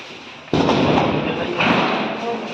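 Diwali firecrackers set off by boys nearby burst with a sudden loud crack, followed by a dense crackling rumble that flares again about a second later.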